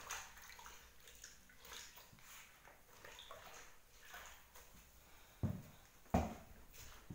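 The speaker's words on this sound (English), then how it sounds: "So essentially I'm just washing these residue parts here" Water splashes and trickles softly while calcimine paint residue is washed off by hand, a quiet, uneven sloshing with two sharper splashes near the end.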